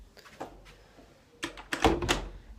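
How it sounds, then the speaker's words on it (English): A bedroom door closes in a quiet home: soft shuffling and a faint latch click at first, then a louder wooden thunk and rattle as it shuts near the end. "And I'll just close my door"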